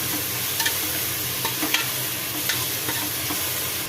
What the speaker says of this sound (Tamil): இப்போ அதையும் சேர்த்து நல்லா மிக்ஸ் பண்ணிக்கலாம்.